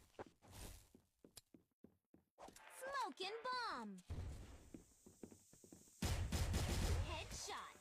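Gunfire from a shooting video game: scattered sharp shots and a few bursts mixed with game effects and footsteps, with a person talking over parts of it, then a loud dense stretch of firing near the end.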